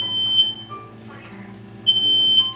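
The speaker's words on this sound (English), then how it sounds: "Apparently I set off smoke detectors for no reason." A household smoke detector sounds while bacon fries on a kitchen stovetop, giving loud, piercing high electronic beeps in short repeated bursts, with a quieter gap between bursts and faint background noise.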